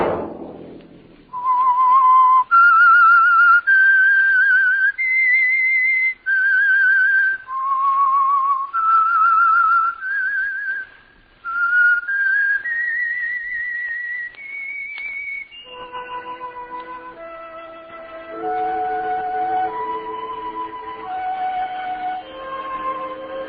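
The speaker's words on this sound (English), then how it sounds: "Let that whistle be your signal for the Signal Oil program, The Whistler." Solo whistled theme signal of the radio drama The Whistler, a clear melodic tune of sustained and gliding notes. It rises through the first phrases, then steps down in a lower closing figure, alone with no voices.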